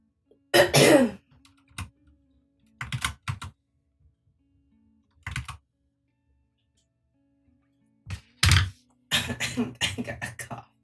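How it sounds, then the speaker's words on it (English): Several close, sharp bursts of coughing and throat clearing come in uneven clusters, separated by quiet gaps, with faint computer keyboard clicks between them. "I got a cough."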